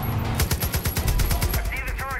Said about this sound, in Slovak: Dobre, strieľam.